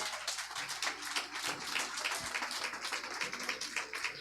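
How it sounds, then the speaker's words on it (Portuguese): Continuous applause from a church congregation, many hands clapping steadily at a moderate distance without a break. "Dê uma linda salva de palmas para o Senhor."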